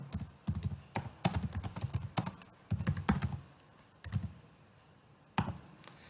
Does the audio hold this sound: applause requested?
no